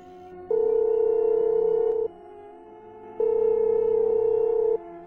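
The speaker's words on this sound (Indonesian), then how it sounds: "ku cari nomor Panji dan segera ku hubungi" A telephone ringback tone sounds as a number is dialed: two long steady electronic purrs of about one and a half seconds each, separated by a pause, clear and close with no talking.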